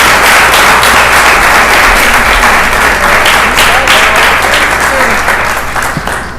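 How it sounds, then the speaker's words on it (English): Loud, sustained applause from a large audience, dense clapping that holds steady and fades slightly at the end, with faint crowd voices beneath. "Let's have a big round of applause for Sujata."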